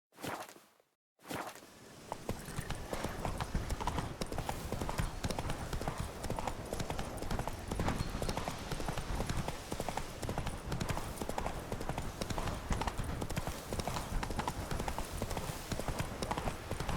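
Horse hooves in The Witcher 3 video game, a fast, steady clip-clop gallop that is close and loud, running continuously after a brief start and pause.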